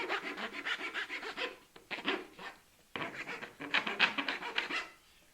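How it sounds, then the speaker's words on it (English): A hand file rasps along the edges of pallet wood in close, rhythmic scraping strokes, several quick bursts separated by brief pauses. "take a file and you're going to want to rough the edges down, or file the edges down just like this."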